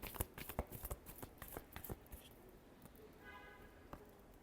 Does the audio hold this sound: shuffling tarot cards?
yes